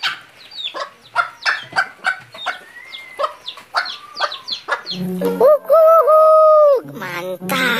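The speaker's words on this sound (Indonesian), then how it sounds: "Wow, ini ayam teman-teman." Someone talks briefly, then a chicken lets out a loud, drawn-out call close by, followed by a short burst of noise.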